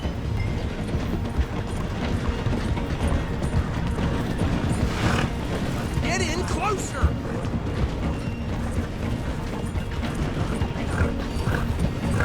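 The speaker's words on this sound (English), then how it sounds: "The train is slowing down to go through the station." Steam train in Red Dead Redemption 2 slowing as it rolls through a station, a steady loud mechanical rumble with rhythmic clatter and clanking running throughout, under a shouting voice.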